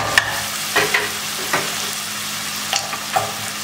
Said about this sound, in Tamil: வெங்காயம் தக்காளி வந்து நல்லா மசிஞ்சு வரணும் அது வரைக்கும் நல்லா வதக்கிக்கோங்க